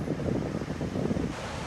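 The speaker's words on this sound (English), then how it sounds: "this east wind is pushing everything inland" Steady east wind roars and buffets the microphone in a continuous low rumble at Pawleys Island, loud and unbroken throughout, with no voices.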